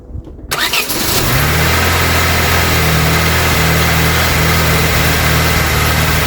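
Vauxhall Cavalier MK2 engine catching and settling into a steady, loud idle on choke after a carburettor rebuild, running close and continuously after a brief start.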